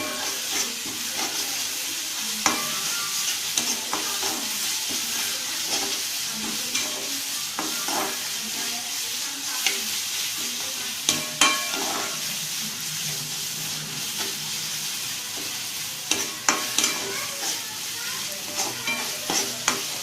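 Ginger garlic paste being sautéed in a pan for prawn gravy, with a steady close sizzle and frequent stirring scrapes and clicks running throughout, with no talking.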